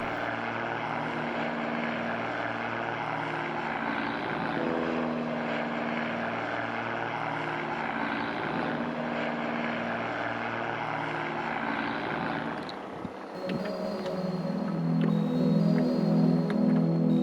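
Small private, commuter and skydiving propeller planes fly low overhead over water in Costa Rica, engine hum steady, then a second aircraft tone takes over, rising and louder near the end.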